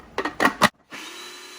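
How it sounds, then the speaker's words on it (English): A food processor whirs in three quick pulses, its blade chopping in short bursts, followed by a pause and then a steady low motor hum. "I just do all mine in the food processor."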